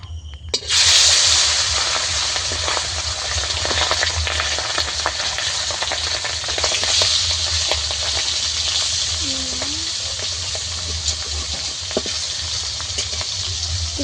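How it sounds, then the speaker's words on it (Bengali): Freshwater eel fish slides one by one into hot oil in a wok over a lit stove, a sudden loud burst of frying that settles into a continuous close crackling sizzle, with no clear speech. "মাছ ভাজার জন্য একে একে দিয়ে দেবো"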